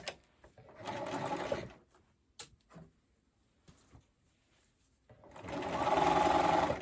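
A sewing machine stitching binding onto a romper a quarter inch from the edge, running in two bursts of rapid steady whirring with quiet handling clicks and fabric shuffling between them.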